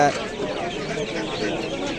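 A dense chorus of chicks peeping continuously, many small birds together, with people talking nearby at a poultry market in Andijan, Uzbekistan.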